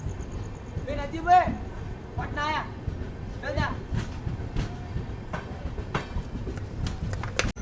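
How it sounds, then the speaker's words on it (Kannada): Golgumbaz Express rolling along, heard from inside a first AC coach: a steady rumbling ride with rhythmic clacks of wheels over rail joints, while a person talks over the noise. "ಗೋಲ್ ಗುಂಬಾಜ್ ಎಕ್ಸ್ಪ್ರೆಸ್ ಈಗ ಎಂಟ್ರ್ ಆಗೈತೆ ರೀ ಗುಳೇದಗುಡ್ಡ ರೋಡಿಗೆ"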